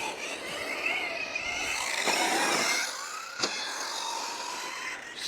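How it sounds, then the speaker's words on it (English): Hobao Hyper SCT 2.0 3S RC short course truck bashing, its electric motor whining at moderate distance with rising and falling revs, a brief tire scrub and a sharp knock midway. "Such a nice car to drive."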